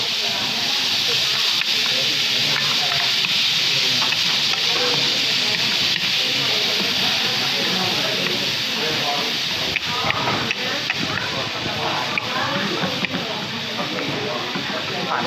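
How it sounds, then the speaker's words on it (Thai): Shrimp and tri-color vegetables stir-frying in hot oil in a vocational college cooking class, a steady, loud, close sizzle and hiss that runs unbroken from start to finish. "เมื่อน้ำมันร้อนได้ที่นะครับ ใส่กุ้งลงไปนะครับ ผัดให้กุ้งสุกเล็กน้อยนะครับตามด้วยผักสามสีนะครับ"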